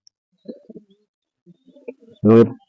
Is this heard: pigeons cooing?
yes